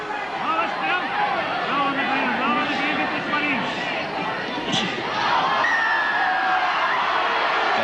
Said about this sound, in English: Crowd not liking that.